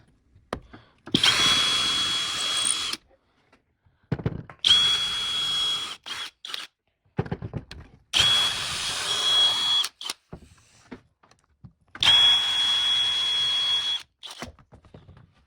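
A power drill drives screws into wood while building a router planer, four steady whirring bursts of about two seconds each, close and loud, with short gaps and clatter between them.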